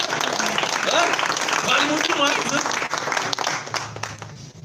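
A church congregation applauds, a dense steady burst of clapping that fills the room and slowly thins out, with a voice speaking over it.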